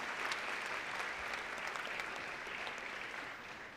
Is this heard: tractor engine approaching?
no